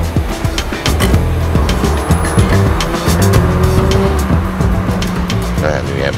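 Car driving on a road: a continuous engine hum and tyre noise with occasional sharper squeaks and clicks, heard from up close with voices talking over it.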